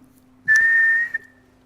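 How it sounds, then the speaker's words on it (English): A single sharp blast of a steady whistle, blown to start a contestant in a craft contest, lasting under a second and standing alone against a quiet room hum. "Contestant, you will go on my first whistle."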